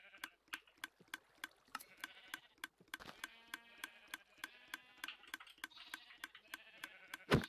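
Sheep bleat in the Minecraft video game, short mid-pitched bleats surfacing over a steady fast ticking pulse, with a louder clatter near the end.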